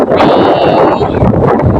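Strong wind buffets the microphone at a seashore the morning after a typhoon, a loud continuous rushing roar with gusts and no pauses throughout.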